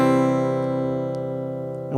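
A C shape chord is strummed on an acoustic guitar and left to ring, a sustained and slowly fading tone held for two seconds, with a faint touch on the strings just at the end.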